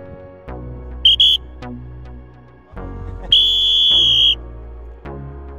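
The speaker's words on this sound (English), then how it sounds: "Two whistles, one whistle." Sharp whistle blasts signal sprint starts at a track training session, two short close blasts followed by one longer blast, heard clearly over quiet background with no talk.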